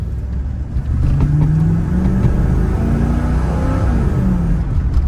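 A Pontiac Trans Am engine pulls hard under wide-open throttle as the carburetor secondaries open, a loud, close, rising drone with rumbling low tones that climb steadily.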